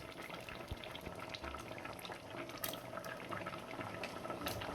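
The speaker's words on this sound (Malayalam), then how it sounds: "അപ്പം നമുക്ക് ഇതിലേക്ക് തേങ്ങ ഒഴിച്ച് കൊടുക്കാം" Ground coconut paste goes into a boiling masala curry, a soft, steady bubbling and gurgling of liquid heard close and quiet, with faint clinks.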